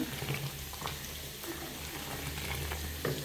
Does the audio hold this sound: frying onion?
yes